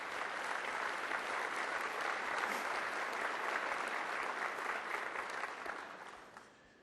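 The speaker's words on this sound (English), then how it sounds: "you guys deserve a round of applause" Sustained audience applause for VA care staff, steady dense clapping from a crowd at moderate level that fades out near the end.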